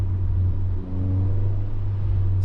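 A Mk7.5 Volkswagen Golf R with a Remus valved catback exhaust rumbles loudly and steadily with a deep, throaty drone, briefly dipping before holding a strong idle-like roar.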